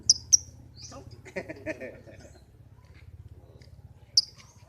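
A green pastel lovebird gives a few sharp, high chirps at the start and again near the end, with faint chatter and a low steady hum in between.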